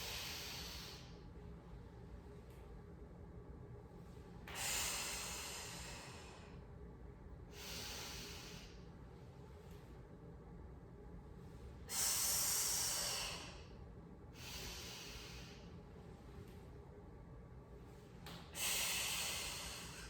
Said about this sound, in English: We're going to take a nice deep breath in.